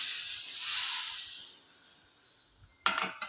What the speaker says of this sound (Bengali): এই থালাটার মধ্যে জল নিয়ে নিয়েছি, নিয়ে জলটা দিয়ে দেবো এর মধ্যে।